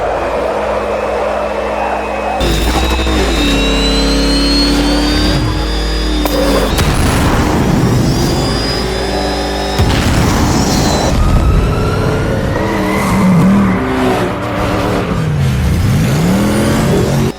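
Batmobile engine in the video game Batman: Arkham Knight, a loud, continuous engine roar with revving and accelerating swells and bursts of rising pitch, heavy low rumble, no talk.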